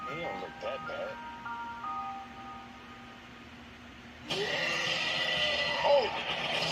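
A tinkling ice cream truck melody plays softly in a film scene, fading out before a sudden burst of louder, noisier movie sound with rushing and cries takes over.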